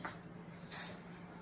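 Cooking spray is misted onto pandesal dough in one short hiss lasting under half a second, close and fairly loud against a quiet kitchen background.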